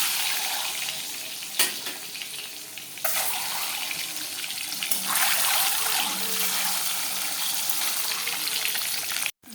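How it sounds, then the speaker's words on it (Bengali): An egg fries in oil with turmeric and salt, a dense hissing sizzle that swells and settles with a few sharp clatters from the pan, heard up close without speech. "এখন ডিমটাকে ভেজে নিব"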